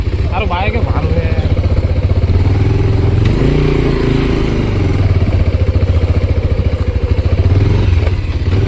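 A Bajaj Pulsar 220F motorcycle engine runs close by in an even, throbbing beat at low revs, with voices talking briefly over it.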